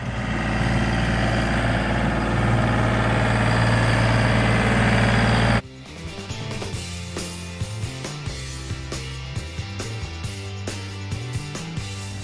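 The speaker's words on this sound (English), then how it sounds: "So getting out the tractor, we'll chain them up and drag them down." A tractor engine runs loud and close with a low, steady idling drone while chaining up and dragging felled trees, then its tone shifts abruptly partway through to a choppier, varying rumble.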